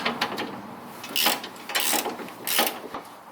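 Front suspension bolt on an MGB being tightened with a ratchet wrench, a run of quick mechanical clicks and metallic ratcheting in short bursts, close and moderately loud, with no talk.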